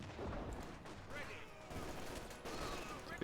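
Mortar or cannon fire booms during a Company of Heroes 2 battle: a dense, continuous barrage of blasts and crackling explosions that stays loud throughout.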